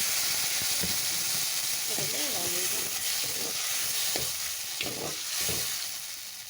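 Ginger and garlic fry in hot oil with a steady hiss and sizzle, punctuated by a few stirring scrapes; a brief voice sounds partway through.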